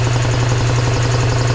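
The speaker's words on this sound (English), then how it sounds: "That's a serious compressor." A two-stage commercial grade Speed air compressor in a garage runs with a loud, steady, close droning hum, its motor holding an even pitch throughout.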